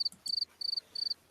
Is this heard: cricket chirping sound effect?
yes